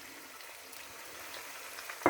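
Onion goes into a pan of mutton frying for korma, giving a soft, steady sizzle throughout and a sharper hiss of oil right at the end.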